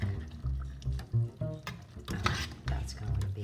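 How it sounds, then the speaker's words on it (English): Tomato puree is stirred into browned beef in a pan over lowered heat for a lasagna sauce, producing soft, faint scraping strokes and a light simmering sizzle over a low steady hum. "Stir that in well."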